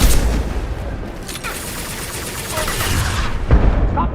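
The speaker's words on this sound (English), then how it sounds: "Stop shooting, Shepard!" Rapid gunfire in the video game Mass Effect 2, dense bursts of shots and heavy booms filling the whole stretch at close range, with combat noise and a voice briefly heard amid the fire.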